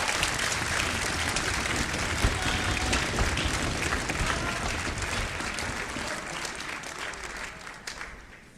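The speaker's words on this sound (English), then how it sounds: "How about a round of applause for these guys?" A concert audience at a spring school orchestra event gives a steady, dense round of applause for student painters, continuous clapping of a large crowd that holds for several seconds before tapering at the end.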